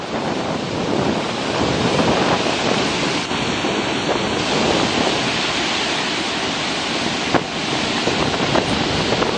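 Rushing water in the Grand Canyon of Yellowstone, a loud steady roar of falling river water heard from a viewpoint, broadband and continuous with wind buffeting the microphone.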